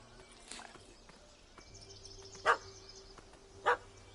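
In The Witcher 3: Hearts of Stone, a dog gives two sharp barks a little over a second apart against a quiet game ambience with faint scattered movement.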